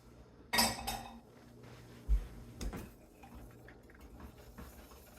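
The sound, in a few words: dishes clattering as they are put in the sink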